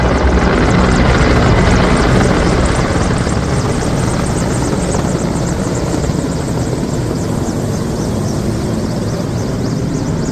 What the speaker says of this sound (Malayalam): ഇനിയിപ്പോൾ ആകാശത്തൂടെ നമ്മുടെ ഹെലികോപ്റ്റർ നമ്മുടെ ഇന്ത്യയുടെ ത്രിവർണ്ണ പതാകയും വഹിച്ചുകൊണ്ട്